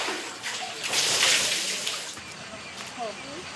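Water splashes and pours in a rural village shower room in Cambodia, a broad rushing wash that swells in the middle and then eases, with faint voices nearby.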